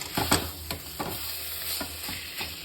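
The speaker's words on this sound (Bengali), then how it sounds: "আমি খুব কম তেলে রান্না করছি, দেখতেই পারো, কষতে কষতেই যা তেল ছাড়বে" Mutton for a spicy curry being stirred and fried in very little oil, giving a low sizzle with a run of close, rhythmic scraping strokes of a spatula in the pot, with no voices.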